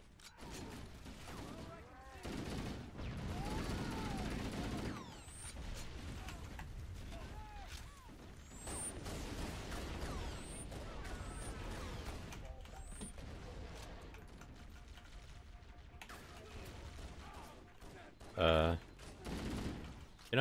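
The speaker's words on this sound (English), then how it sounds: "Ooh, assault rifle." Assault rifle gunfire in the video game Halo: Combat Evolved on Legendary difficulty, bursts of rapid shots mixed with other game effects and explosions, with people talking over the action.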